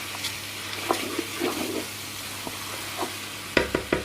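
A spoon stirs paella with peas in a pan, giving scattered scraping clicks over a low sizzle, with a few sharper knocks near the end.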